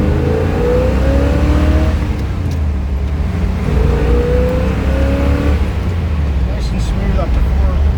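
A 1967 Corvette convertible engine runs and revs steadily, a continuous low rumble with a couple of rising pitch sweeps, while a person talks over it throughout.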